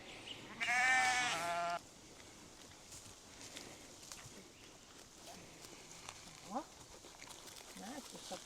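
Sheep bleat once, a loud wavering call lasting about a second near the start, then quiet outdoor ambience with faint scattered sounds follows.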